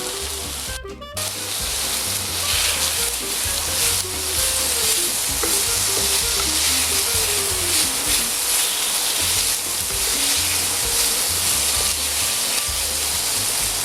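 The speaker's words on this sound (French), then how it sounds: "Et on laisse mijoter un peu comme ça." Corned beef with summer vegetables cooks in a pan, giving a continuous loud sizzle and bubbling hiss, with a brief clatter near the start and occasional stirring movements.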